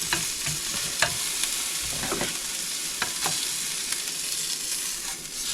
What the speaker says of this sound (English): I'm currently cooking up a bit of steak